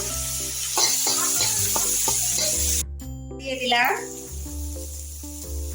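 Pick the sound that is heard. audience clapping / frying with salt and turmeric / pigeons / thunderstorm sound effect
frying with salt and turmeric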